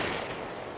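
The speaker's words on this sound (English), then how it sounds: "they are like the classical gunshot sound effects for like cartoons and stuff" Cartoon-style gunshot effects crackle through war footage, a dense, continuous burst of popping and crackling noise, loud and without speech.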